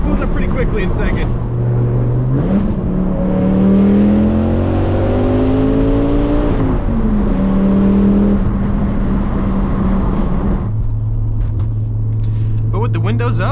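Inside a turbocharged car, the engine climbs as the turbo spools up quickly under hard acceleration, a loud rising drone with pitch sweeps, then settles into a steady highway rumble; someone talks over it.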